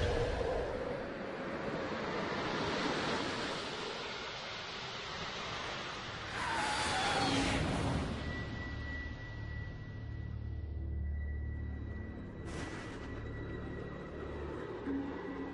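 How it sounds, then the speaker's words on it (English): Space Shuttle Atlantis touching down on a runway, a broad, steady roar of rushing wind and rumbling wheels that swells and fades, with a faint tonal whine near the end, distant and without voices. "The last landing of Atlantis is perfect. Nose gear touchdown."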